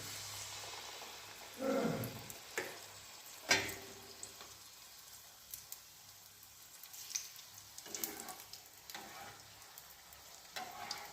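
Egg malpoa batter hitting hot oil and frying, a quiet steady sizzle broken by a few louder bursts of crackle as more batter goes in, close and without voices.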